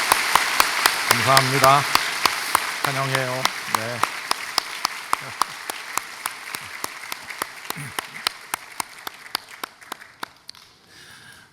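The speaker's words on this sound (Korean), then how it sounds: "우리 어른 성도들이 박수 한번 하겠습니다." Church congregation applauding during a Christmas worship service, steady clapping throughout with someone speaking briefly over it near the start.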